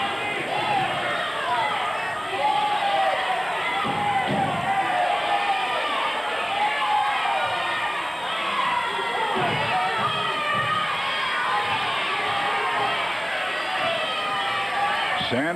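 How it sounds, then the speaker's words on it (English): Pro wrestling arena crowd in 1982 Portland yelling and roaring continuously, a dense wash of many voices with occasional louder shouts throughout. "The crowd yelling that Oliver used hair to get it."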